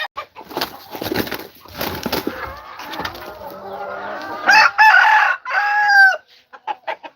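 Roosters crow loudly and close by on a farm, with clucking and scattered bird calls around them, the strongest crows coming near the end.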